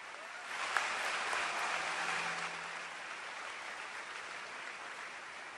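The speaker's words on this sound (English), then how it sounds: "Please, one more round of applause for them." An audience at a high school veterans assembly applauds steadily, a dense wash of clapping from a large crowd in a hall that holds even for several seconds and eases slightly toward the end.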